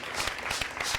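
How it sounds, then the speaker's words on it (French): Audience applause for a guest at a televised talk event, a brief burst of steady, fairly distant clapping from a crowd. "Acclamation pour lui."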